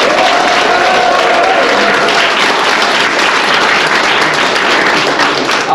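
A large audience at a Korean political policy-agreement ceremony breaks into loud, dense applause, continuous close clapping that fills the hall for the whole stretch without pause.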